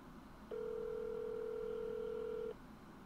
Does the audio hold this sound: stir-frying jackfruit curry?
no